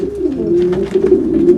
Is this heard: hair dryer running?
no